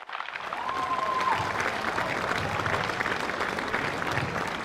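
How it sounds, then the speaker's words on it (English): A crowd at the Delhi Open tennis tournament in New Delhi gives the champion a long, steady round of applause, the massed clapping swelling up and holding evenly throughout. "Can we have a huge round of applause for a very, very large champion in the making?"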